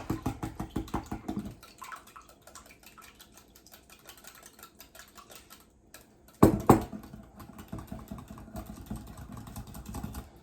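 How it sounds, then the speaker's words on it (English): Eggs are whisked into apple oatmeal muffin batter in a bowl: a fast, rhythmic clicking and scraping that starts strong, drops to a softer patter, then picks up again after a brief clatter. "Just going to whisk this up really quick."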